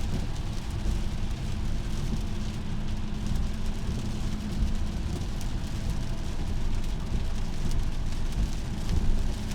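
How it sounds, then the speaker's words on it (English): Dense, steady hiss of heavy rain pouring continuously in Tennessee, broadband and unbroken, with a low rumble underneath and no voices. "I'm just hoping it doesn't pick up this rain super loud like it sounds to me right now."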